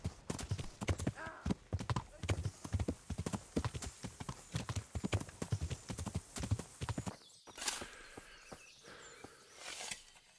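Horse hooves clip-clop in a steady walking rhythm while riding in the medieval video game Kingdom Come Deliverance, close and clear, then give way to rustling outdoor game ambience in the last few seconds.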